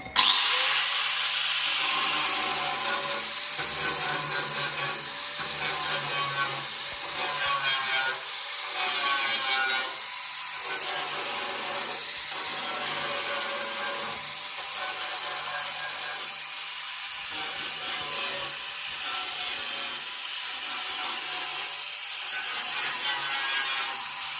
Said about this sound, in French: Je vais mettre un petit coup de meule et on va voir si on a des petits trous